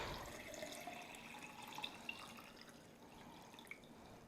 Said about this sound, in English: I have my seeds in my jar, and I'm going to fill it up with filtered water.